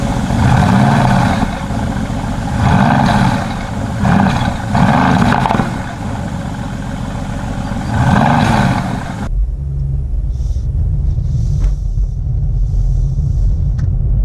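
A Mercedes-Benz AMG E43 engine roars loudly during acceleration, a deep rumble that swells in repeated surges, then drops abruptly to a quieter low cabin hum with faint higher sounds.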